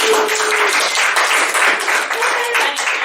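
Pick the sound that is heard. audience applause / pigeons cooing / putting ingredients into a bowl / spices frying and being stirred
audience applause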